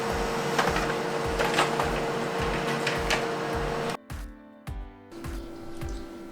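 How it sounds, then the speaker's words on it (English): A Brother printer runs a page through, giving a steady mechanical whir with regular rhythmic pulses that stop and restart in short bursts near the end, close by and alone. "This is the brother printer already chosen."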